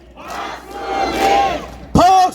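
A rally crowd outside Suseo Station in Seoul chants a candidate's name in unison, a swelling group shout that builds and then breaks into a loud amplified voice at the end.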